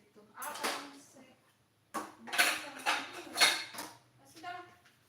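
Metal spoon clinking against a dish while stirring, several bright clattering bursts close to the microphone, with someone speaking between them.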